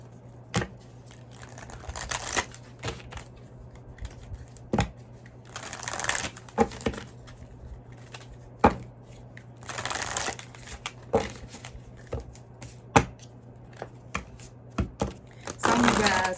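Soft papery rustles and light snapping flicks of cards being shuffled, in intermittent bursts with quiet pauses, close by and fairly faint.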